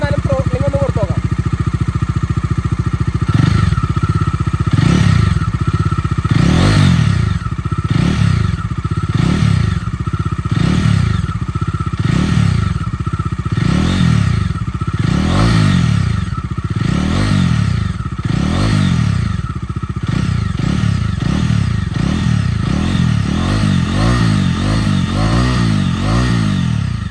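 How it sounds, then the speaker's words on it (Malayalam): A second-hand motorcycle engine idles close by and is repeatedly revved with the throttle, giving a series of rhythmic rising roars over a steady mechanical chatter, with a voice at times. "ഞാൻ എന്നാലും ത്രോട്ട്ലിംഗ് ഒന്ന് കൊടുത്തു നോക്കാം."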